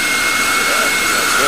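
An electric ducted fan being balanced runs under throttle, giving a steady, loud, high-pitched whine with a strong sustained tone that holds throughout, with voices faintly present.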